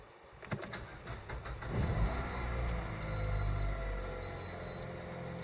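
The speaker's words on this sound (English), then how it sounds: "Now I'm pushing the brakes and start the engine." A Toyota car with a semi-automatic MMT gearbox starts up: a brief cranking burst gives way to a low engine idle that settles in, with a repeating electronic beep sounding over it.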